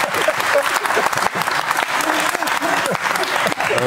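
Dense studio audience applause on a German evening talk show, loud and continuous, with some voices mixed in beneath the clapping.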